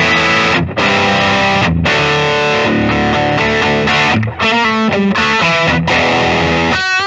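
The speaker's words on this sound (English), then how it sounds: "plug it in, and hear how this one sounds." A 2022 Gibson Slash Les Paul Standard limited electric guitar plays plugged in through heavy distortion, loud and close, with sustained chords and brief gaps between phrases.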